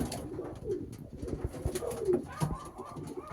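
A racing pigeon coos at the loft after returning first from a 370-kilometre race, several soft, close throaty coos repeating over a quiet background with no talk.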